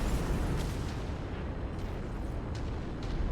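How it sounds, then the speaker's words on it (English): Infantry gunfire hitting a mech in MechWarrior during urban combat, a steady rumbling barrage with scattered faint cracks, fairly quiet and distant, with no talk. "It's just all the infantry that's shooting at me."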